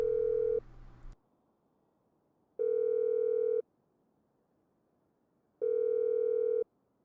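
Phone call to the mechanic in GTA Online: a steady tone cuts off, then two evenly spaced ringback tones follow, each about a second long, separated by quiet pauses, clean and close.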